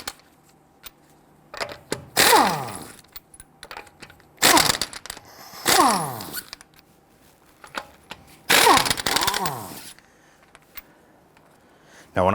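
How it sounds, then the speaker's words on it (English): Lug nuts come off an Infiniti G37 with a 21mm socket: three loud, close whirring bursts of a tool spinning the nuts, each a second or so long, separated by quieter pauses with faint clicks. "loosen and remove your lug nuts"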